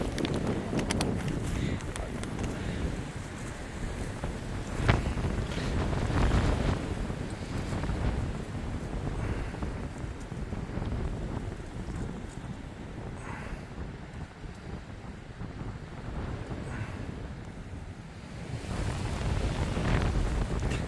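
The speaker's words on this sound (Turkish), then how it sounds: "rüzgarlı bir gün." Heavy wind buffeting the microphone in continuous gusts, loud and rumbling throughout, with occasional faint voices beneath it.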